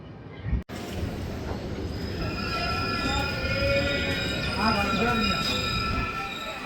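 An express passenger train hauled by a WAG9 electric locomotive rumbles along steadily, with metallic squeals and whines from the wheels rising and falling over the constant roar.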